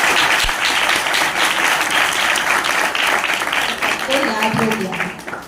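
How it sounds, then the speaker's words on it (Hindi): A live audience breaks into sustained, dense applause with many hands clapping at once. It stays loud and steady before tapering slightly at the end, with voices mixed in beneath the clapping. "अपने एक बार ताली बजाइए।"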